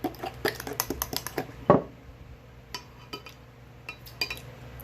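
A spoon clinks and scrapes against a bowl while mixing ketchup and sugar into a barbecue sauce for Dutch oven ribs, a string of sharp close taps with one louder scrape, no talk.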